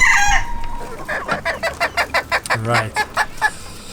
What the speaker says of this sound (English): my couple of red mottled bantams are also here